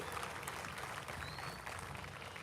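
Audience applause for Marine Corps veterans at a high school graduation ceremony, a steady, even wash of clapping from a large crowd, faint and distant with no voices over it.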